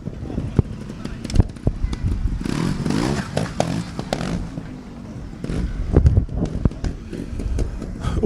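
An extreme trials motorcycle at a Lanark show revs and clatters over obstacles, its engine rising in short bursts with sharp knocks, heard under commentary.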